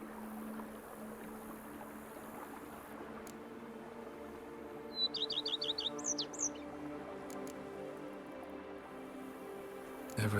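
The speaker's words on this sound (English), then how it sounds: "Bees buzzing, birds chirping." Birdsong in The Witcher 3 game world: a brief, distinct burst of rapid repeated chirps midway through, set against a steady ambient outdoor bed with low hum and no speech.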